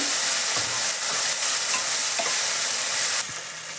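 Tomatoes for a chukka kura chutney fry in a pan with a steady loud sizzle, while a spoon scrapes and stirs through them in irregular strokes; the sizzle drops off abruptly near the end.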